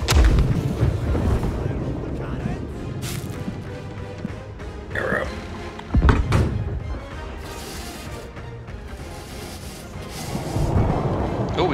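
Ship cannons firing in the naval game Blackwake, heavy booming blasts at irregular intervals with rumbling tails, mixed with crew voices talking over the battle.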